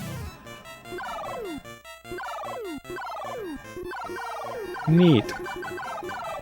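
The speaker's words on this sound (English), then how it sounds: "that guy's shooting birds out of the sky!" Birds being shot out of the sky in the Japanese NES game Dr. Jekyll and Mr. Hyde: repeated falling chiptune squawks over looping game music, with one louder burst near the end and a brief spoken remark.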